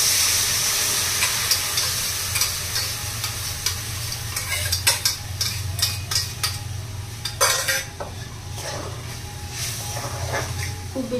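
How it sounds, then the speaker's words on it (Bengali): Pointed gourd frying in a pan on a home stove while a little water is added, giving a steady close sizzle and hiss with repeated scraping and clinks of a spoon stirring against the pan. "পটলটা তো ভাজা হয়ে গেছে, এখন জলটা দিলাম অল্প পরিমাণে।"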